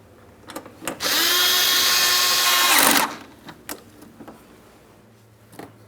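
A power tool whirs for about two seconds while snugging up front bumper cover mounting bolts on a 2008-2016 Chrysler Town & Country, a loud steady drive between soft clicks and handling noises.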